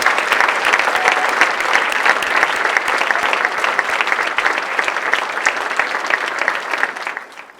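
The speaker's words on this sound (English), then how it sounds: "Help me applaud and congratulate these talented Daemen professors." Sustained audience applause at a college's State of the College address, honoring distinguished professors; dense, steady clapping from a large crowd that holds evenly before tapering off at the end.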